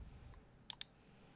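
A computer mouse gives two quick, faint clicks in close succession against a quiet background hiss.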